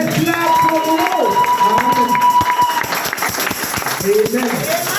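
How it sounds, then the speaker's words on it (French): A church congregation applauds and cheers during a bilingual service, a loud, sustained crowd of clapping and shouting voices filling the room. "Let's clap for the Lord."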